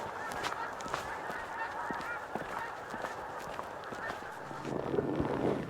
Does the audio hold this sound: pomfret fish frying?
no